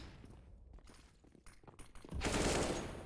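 Gunfire in a competitive Counter-Strike match, with a few sharp shots and scattered impacts, then a loud sustained blast of dense firing near the end.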